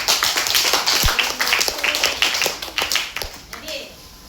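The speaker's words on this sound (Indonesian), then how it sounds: "Ayo berikan aplaus dong." A classroom of children claps in a quick, scattered burst of applause that fades over a few seconds. Young voices can be heard mixed in.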